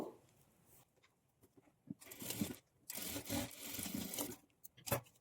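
A sewing machine stitches darts on a lined blouse in short bursts of rapid mechanical whirring, separated by quiet pauses, close and clear.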